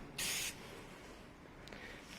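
A single short hiss of spray paint is applied as a base coat on a moped, sharp and close, followed by quiet background.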